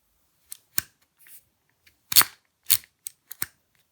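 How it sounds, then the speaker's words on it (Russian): A series of sharp plastic clicks, irregularly spaced, as the metal-framed headband of HarmonicDyne Athena headphones is adjusted notch by notch, close and isolated against silence. "Внутренняя часть оголовья металлическая, имеет регулировку по щелчку"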